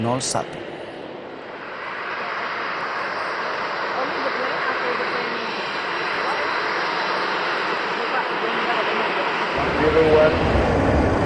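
Jordanian fighter jets escorting a presidential plane produce a steady, broad engine roar that holds for several seconds at moderate loudness, with a faint voice over it.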